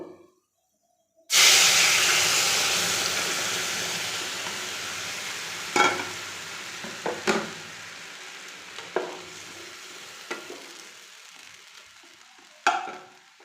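Pea dal being tempered with five-spice (panch phoron) in hot oil gives a sudden loud sizzle that tapers into a steady hiss, with several sharp utensil clinks and stirring knocks scattered through it.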